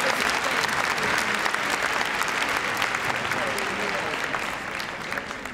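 Audience at the Crufts 2010 dog show claps during a gundog display, a dense, sustained round of applause lasting several seconds that tapers slightly toward the end.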